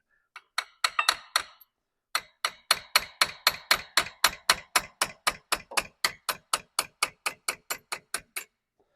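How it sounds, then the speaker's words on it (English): Sharp metallic taps in quick succession as a small hammer strikes a long bolt to drive out a clutch pin: a short burst of several strikes, a pause, then a long steady series of evenly spaced blows, close and clear. "we can just gently tap on this long bolt with our little hammer to pop that pin out."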